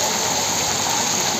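Heavy rain pours down steadily outdoors, heard from shelter beneath a tree: a dense, loud, continuous hiss and rush of falling water with no breaks.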